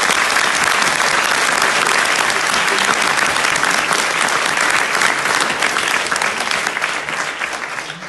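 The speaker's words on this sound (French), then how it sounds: "je vous demande de les applaudir" Sustained crowd applause fills the room at a chemistry olympiad results announcement, loud and dense throughout before starting to fade near the end.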